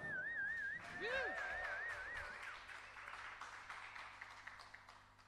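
A live music crowd claps and cheers while someone whistles in wavering, warbling tones near the start. The applause continues as a soft, steady patter that gradually thins out.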